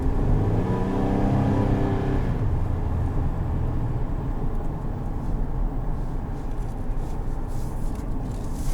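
Chevrolet Silverado pickup with a 4.3 engine accelerating, a loud steady engine drone with rising harmonic hum for the first couple of seconds, then settling into broad road and cabin rumble.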